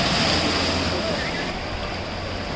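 Floodwater rushes across a road in Kanyakumari during heavy rain, a loud, continuous broadband roar of flowing water close by, steady throughout with wind buffeting the microphone.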